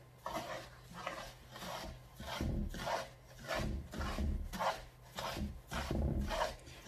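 Kalb el louz semolina cake batter stirred by hand in a bowl, a steady rhythmic scraping and rubbing repeated in regular strokes, close and moderately loud with no talking.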